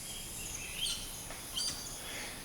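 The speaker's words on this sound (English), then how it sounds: "a Palawan peacock pheasant" A Palawan peacock pheasant calls in a Philippine island forest, giving two short, high, fairly faint notes about a second apart over a soft background of insect and bird chatter.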